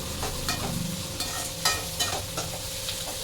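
Onions sautéing in a pan for a dried fish thokku, a steady close sizzle with repeated scraping and stirring strokes of a spoon against the pan, no talking.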